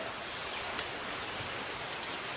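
Steady heavy rain driven by wind makes a dense, constant hiss close by, with one brief sharper patter and no voices.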